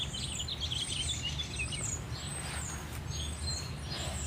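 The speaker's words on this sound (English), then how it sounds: "sit and listen to the birds for a minute" Wild birds sing outdoors in spring, several thin chirps and short trills overlapping at moderate distance over a soft, constant background hum.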